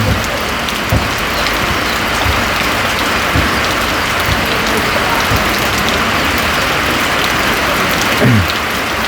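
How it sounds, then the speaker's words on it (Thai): Heavy rain pours down in a steady, dense hiss and patter on surfaces, loud and continuous throughout, with a few sharper drips and no voices. "เพราะว่าฝนตก"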